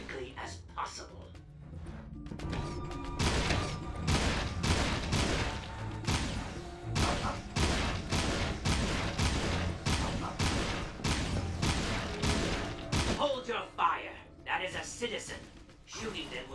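Weapon fire in Jak and Daxter: The Lost Frontier, with a steady run of sharp, evenly spaced shots over a game music bed and character voices, the firing loud and close before fading near the end.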